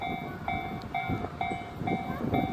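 An express train passing a railroad crossing in Japan, with a steady crossing bell ringing in regular repeated strokes over the low rumble of the approaching train, fairly close and with no talk.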